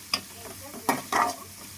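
Ginger garlic paste fries in a pan for egg biryani, with a low sizzle broken by a few short stirring scrapes and clatters, close and moderately loud, with no talk.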